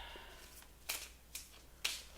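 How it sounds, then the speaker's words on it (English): Tarot cards are shuffled in three short, soft riffling bursts spaced about half a second apart, quiet and close with no voices. "as I'm shuffling these cards for Echo Michele Lloyd"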